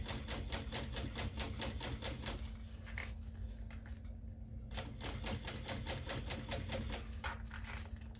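Sewing machine top stitching an eighth of an inch from the edge in contrasting thread on a small backpack, a steady, fairly faint rapid needle chatter that pauses briefly partway through and then resumes.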